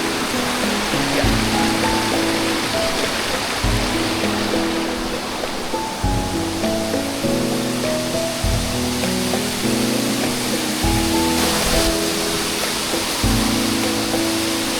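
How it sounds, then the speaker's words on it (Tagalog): Strong river current rushing over the rocks at Colibong Rocky Falls in Malico, Santa Fe, Nueva Vizcaya, a steady, loud and close roar of churning water that holds without a break. "Lakas ng agos."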